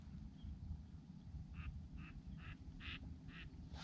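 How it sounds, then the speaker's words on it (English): Mottled ducks quacking on Louisiana public land during a hunt, a series of six short, faint, evenly spaced calls carried over steady low wind and rustle. "That's a mottled duck."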